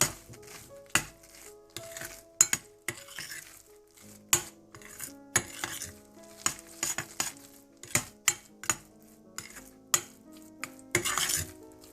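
A spoon scrapes and clinks repeatedly against a metal pot while stirring khoya, in short, irregular strokes, close and fairly loud, with no one talking.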